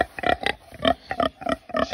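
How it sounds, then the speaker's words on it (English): Pigs in a farrowing barn grunt and oink in a quick, rhythmic series of loud, close snorts. "we've got 2 beautiful pigs over here"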